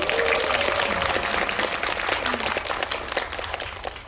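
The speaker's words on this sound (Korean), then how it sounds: "박수 좀 부탁드립니다." Audience applause at the COEX premiere screening of the film "Tyrant" (폭군): dense, steady clapping fills the hall, loud and sustained, easing slightly toward the end with no clear voices over it.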